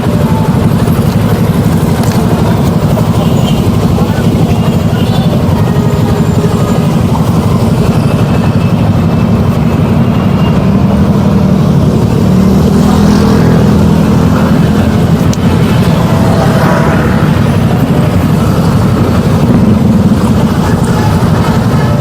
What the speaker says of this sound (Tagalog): Traffic talaga dito sa aming Saltares. Sobrang traffic ka lagi dito.